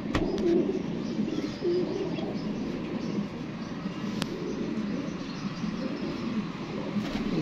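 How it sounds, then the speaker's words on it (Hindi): A golden pigeon is held among a flock of pigeons being trained. Soft cooing blends into a busy rumbling background with faint distant noise. "ले जी दोस्तों ये कबूतर है, चेक करें ज़रा।"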